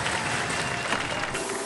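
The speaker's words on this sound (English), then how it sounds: "Give them a round of applause, ladies and gentlemen." Studio audience at a robot combat show applauds loudly and steadily, a dense continuous wash of clapping with a few cheers through the short stretch.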